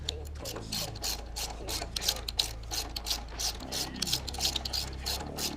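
A hand ratchet clicks in quick, uneven bursts while footpeg bolts are tightened and torqued on a 2017 Harley-Davidson Iron 883, close and fairly quiet, with small metallic tool sounds between the bursts.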